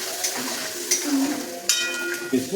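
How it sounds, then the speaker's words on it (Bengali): Potatoes frying in oil with salt, turmeric and spices for a vegetarian potato curry (aloo dum): a steady close sizzle with a few sharper clinks and scrapes of stirring, and no talk. "নুন দিয়ে দেবো, হলুদ, মশলাটা দিয়ে দিলাম, ভালো করে কষিয়ে নেবো।"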